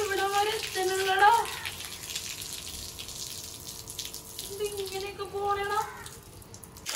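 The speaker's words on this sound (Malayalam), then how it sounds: "ഈ കല്ലിലേക്ക് വെള്ളം ഒഴിക്കി" Water is poured onto the stones of a small terrace pond, a steady splashing rush running through the middle while voices talk before and after it.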